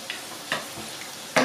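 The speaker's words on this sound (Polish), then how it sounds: "I smażymy na złoty kolor, na takim małym ogniu." Elderflower fritters fry gently in a pan over low heat, a quiet soft sizzle with a few brief scraping stirs and a louder crackle near the end.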